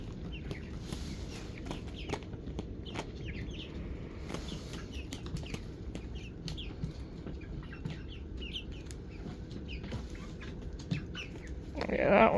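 Ten-week-old chickens clucking and chirping steadily in a loose chorus, with scattered short calls over a constant low background and a burst of louder sound near the end.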